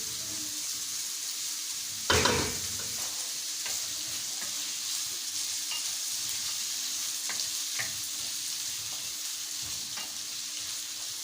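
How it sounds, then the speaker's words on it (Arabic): Vermicelli and potatoes fry in a pan with a constant close sizzle, while a spoon stirs them with one loud scraping clatter early on and a few lighter scrapes afterward. "هقلب الحاجات دي شويه كده تقلبتين وبعدين ارجع لكم تاني"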